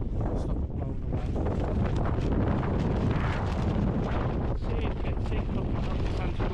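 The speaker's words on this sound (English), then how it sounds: "See, look how the tent's blowing. The wind's really getting up now." Wind buffets a tent in a snowstorm while wild camping in March, a steady, loud roar and flapping rush filling the whole stretch without letup, close to the microphone.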